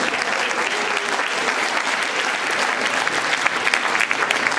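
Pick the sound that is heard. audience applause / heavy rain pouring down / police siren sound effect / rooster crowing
audience applause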